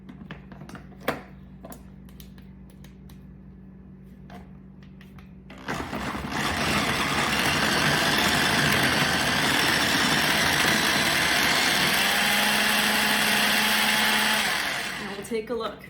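A blender whirs loudly and steadily as it purées a guacamole mixture, starting abruptly after a few quiet seconds with faint clicks, then running continuously for about ten seconds before winding down at the end.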